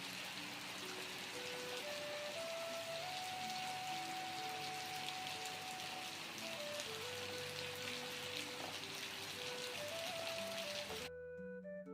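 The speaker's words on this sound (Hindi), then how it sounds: "एक बार फिर से ज़ोर से बारिश लग चुकी है।" Heavy monsoon rain pours steadily in the hills during the month of Sawan, a dense, even hiss of downpour over a faint tonal background, cutting off near the end.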